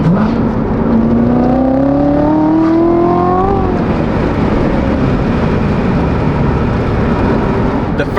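A Chevrolet Corvette C7 Z06 accelerates hard, its engine note rising steadily through a gear before a shift, then roaring on at sustained high revs, loud and close from inside the car.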